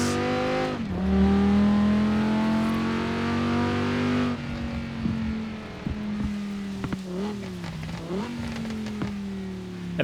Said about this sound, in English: It has that Audi 5-cylinder sound to it